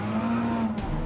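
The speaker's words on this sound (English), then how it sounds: "That's heavy braking there." A car brakes hard on track in Gran Turismo 7, a brief steady engine drone with a sustained tonal whine from the tyres.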